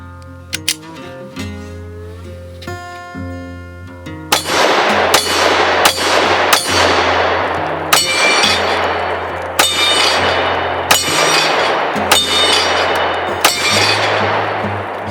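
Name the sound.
Ronin 10mm pistol firing gold dot rounds, hitting steel targets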